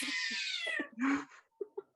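An angry cat yowls and caterwauls from inside a bag, a long harsh drawn-out wail followed by a shorter growling cry and two brief sharp mewls, close and loud.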